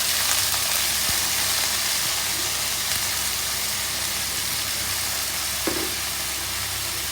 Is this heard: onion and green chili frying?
yes